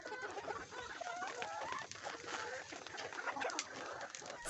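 Backyard hens flocking to eat soaked roti bread, a dense continuous chorus of clucks and chatter with scattered pecking and scuffling, fairly faint throughout.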